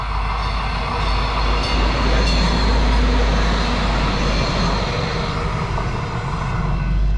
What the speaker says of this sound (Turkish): Bu bizim mahallemizin treni ama genelde hep boş geçiyor.